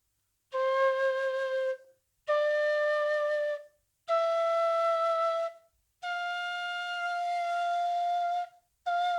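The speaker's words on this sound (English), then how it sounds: "when you open the half, it sounds like this on the C flute" Bansuri bamboo flute in C playing a steady sustained note with the ma hole half open, five separate breathy tones with clear harmonics, each held one to two seconds with short gaps, close and solo.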